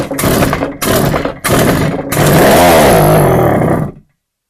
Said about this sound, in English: the engine fired for a moment and then it immediately died